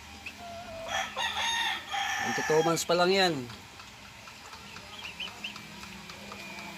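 Roosters and hens in a small breeding pen at a farm: a loud, close rooster crow rising and falling, followed by softer clucks, with someone speaking briefly over them.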